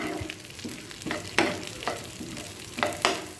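Ingredients roast in a pan for a potato paal curry, a low constant sizzle broken by a handful of irregular scraping stir strokes, close and moderately quiet with no talking.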